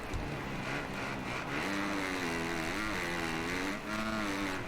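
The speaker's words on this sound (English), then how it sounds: "this bike sounds even better in first person" Motocross bike engine in the MXGP video game, heard from first person, a steady buzzing drone with rising and falling revs, moderately loud and continuous, with no talking.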